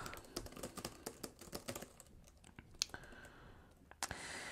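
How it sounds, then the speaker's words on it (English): Quick, light key clicks come from typing on an Amazon keyboard case for a 2018 iPad Pro, a steady close patter that thins out and stops, followed by a couple of isolated taps. "the typing does seem to be really nice"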